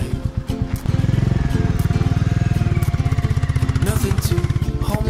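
A motorcycle ridden by a woman, its engine chugging in a fast even pulse close by after a rougher start, with brief talk near the beginning.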